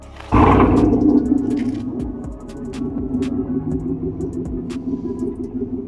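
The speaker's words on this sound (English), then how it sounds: "So actually a full MagnaFlow exhaust system." Cadillac Escalade engine with a full MagnaFlow exhaust system fires up with a sudden loud roar, then drops into a deep, rumbling, throbbing idle with small clicks, up close and without talk.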